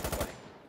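A quick burst of three rapid gunshots from a firearm in the video game Insurgency Sandstorm, loud and close, followed by a fading echo tail.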